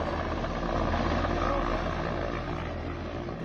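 Military helicopters flying in to land troops in Pakistan-administered Kashmir: a loud, steady, broadband rotor-and-engine roar that holds at an even level for the whole stretch, fading only slightly near the end.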